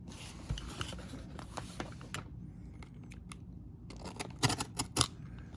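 A pack of baseball cards is cut and torn open close by, with crisp snips, rustling wrapper crinkles and sharp plastic clicks in irregular bursts.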